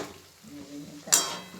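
Spiced chicken frying in a pan at home, a quiet sizzle with a brief louder burst of hiss as the pieces are stirred, heard alone without talk.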